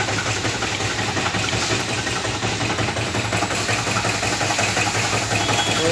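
A 4-cylinder BMW diesel engine runs at a steady idle with a crank pulley noise fault, giving a continuous, even, close-up engine drone with a low throb and no talk.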